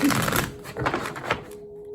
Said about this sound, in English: Oh, last shuffle.